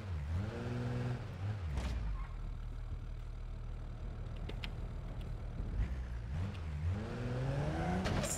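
Mahindra Thar engine driven in BeamNG, revving up and down through gears with rising and falling pitch, loud and close, with brief knocks and thumps in between.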